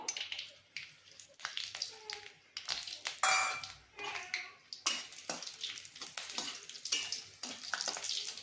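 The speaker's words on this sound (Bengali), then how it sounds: "এর মধ্যে আমি বড়িটা আগে ভেজে নেব।" Bori lentil dumplings fry in oil in a wok, giving intermittent close sizzling and crackling bursts as they are stirred, with short quiet gaps between the spatters.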